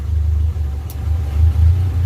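A Suzuki Espass car engine idles with a steady low rumble close by, its pitch and loudness creeping up slightly as the air conditioning switches on; no talking.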